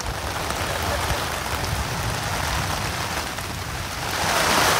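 Steady rain drumming on tents at a jungle group campsite in Nepal, a continuous broadband patter that swells slightly toward the end, with no voices.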